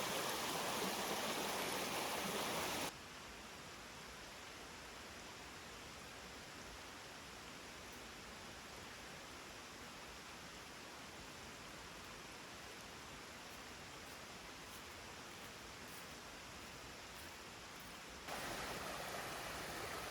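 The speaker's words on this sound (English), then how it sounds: "I completely forgot about the fifth waterfall on this trail. I think this one's called Hemlock." Hemlock waterfall on a Sipsey Wilderness trail in Alabama: a steady, broadband rush of falling water that never lets up. It is loud and close at the start and end, and a bit softer through the middle stretch, with no voices.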